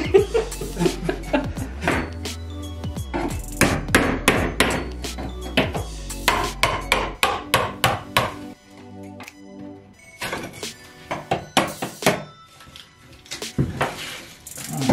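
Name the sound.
cutting a hole in bathroom wall behind sink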